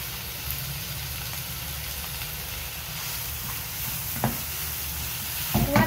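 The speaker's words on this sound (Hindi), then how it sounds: "अगेन स्टर फ्राई करेंगे थोड़ा सा. Soya sauce about 2 table spoon और फ्लेम मेरी हाई है." Egg noodles stir-fried with soy sauce over a high flame give a continuous loud sizzle and hiss, with a few sharp clacks of a utensil against the pan near the end.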